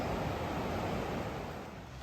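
Water rushes over the shallow rocky shoals of the New River at Foster Falls, a steady broadband wash that stays close and fairly loud throughout, easing off slightly toward the end, with no voices.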